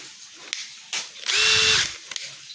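Milwaukee 18V Fuel Surge impact driver running: a brief, close motor whine of about half a second with a steady tone, framed by small clicks and handling noises.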